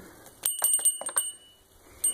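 A small bell jingles in a few quick, bright rings, with short pauses between, close and fairly clear.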